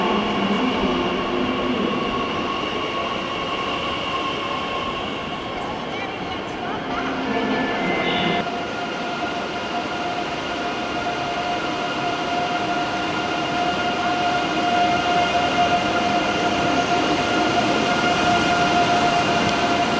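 A Dutch IC3 train, set Arnhem, stands at Köln Hauptbahnhof on a Brussels Midi to Frankfurt service: a steady, loud mechanical hum with a sustained tonal whine and a brief metallic squeal amid station ambience.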